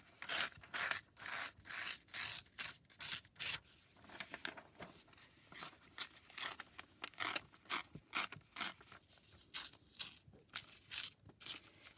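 Paper is ripped by hand for a library-pocket craft, giving a dozen or so short, bright tearing bursts in a quick irregular rhythm, close and fairly loud with no talking.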